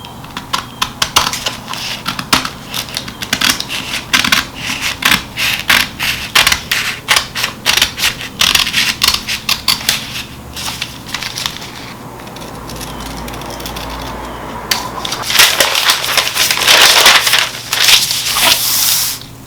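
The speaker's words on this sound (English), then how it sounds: "So I'm just going to go ahead and cut following this green line, which is the back." Scissors cut a paper sleeve pattern along a drawn line, producing a steady run of close, crisp snips and rustles that quicken and blur into a denser crunching at the end, with no talk.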